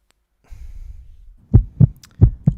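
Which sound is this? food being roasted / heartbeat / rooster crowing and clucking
heartbeat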